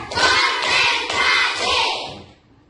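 A primary school class claps a four-beat pattern together, four broad bursts of many hands in a steady rhythm, loud and close, then dying away to quiet.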